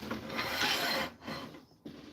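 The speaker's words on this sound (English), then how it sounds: "It's a fair bit of sanding required." Rotten, punky wood is sanded by hand with long, close, raspy strokes, one sustained pass followed by shorter scrubbing ones, and no talk.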